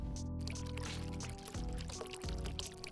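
Water is poured in a spiral pattern from the center over ground coffee in a pour-over brewer, giving a continuous close trickle and splash with a faint background hum.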